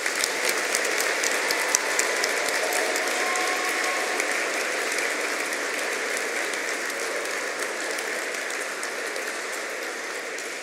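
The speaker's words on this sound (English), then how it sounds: "Let's give a big round of applause to our remarkable students for their exceptional achievements" A graduation ceremony audience applauds students in London, a dense sustained wash of clapping that stays loud and even throughout before slowly easing, with no voices over it.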